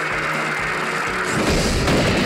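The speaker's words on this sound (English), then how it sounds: "Explosion." A dense, continuous rumbling blast fills the scene in the video game Dillon's Rolling Western, a loud broadband explosion roar that holds steady without a clear single onset or fade.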